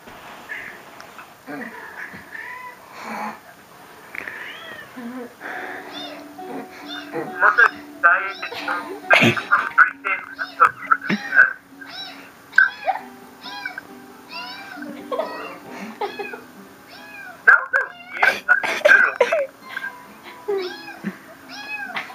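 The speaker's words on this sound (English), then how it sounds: "That's a weird meow." A cat meows repeatedly in varied, drawn-out and oddly pitched calls, close and loud, with people talking and laughing in between.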